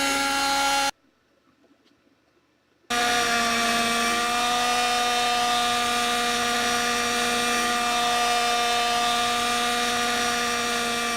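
Simulated RC helicopter in a flight simulator game, a loud steady whine with layered rotor and motor tones that drops out for about two seconds near the start, then resumes and holds continuously.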